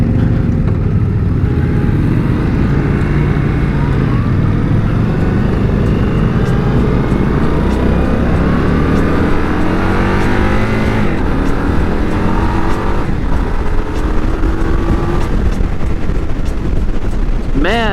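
An Indian Scout motorcycle accelerates hard on the road, its engine note rising through the gears. It is loud and continuous under heavy wind roar, with no clear speech.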